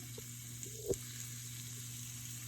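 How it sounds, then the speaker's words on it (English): Onions sautéing in butter in a skillet make a soft, steady sizzle with a faint hum and one brief clink of a utensil, no talking. "I put in some butter because we need to saute our onions"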